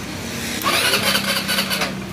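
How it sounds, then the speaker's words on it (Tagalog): A starter motor whirs as it cranks a Rusi scooter whose push start fails: a short, close mechanical whine under two seconds long that rises sharply and then drops away, with no speech. "ibig sabihin gumagana yung starter, yung starter motor gumagana"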